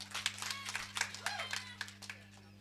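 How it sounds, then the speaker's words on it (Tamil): Sparse, irregular handclaps from a small audience at a staged comedy skit, a dozen or so sharp claps over a steady electrical hum, fairly faint. "கைதட்டுங்க."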